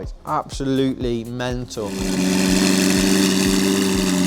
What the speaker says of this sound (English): This car, it's got the Novitec exhaust.